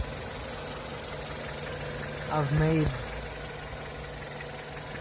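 A Mazda FP/FS four-cylinder engine idles with a steady, continuous hum and a brief rise midway, while someone speaks briefly over it.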